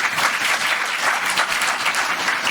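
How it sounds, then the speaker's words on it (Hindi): Hindi-speaking audience at a Brahma Kumaris spiritual gathering in Hyderabad bursting into sustained, dense applause, a steady roar of many hands clapping together with no pauses. "अपने लिए ताली बजाइए।"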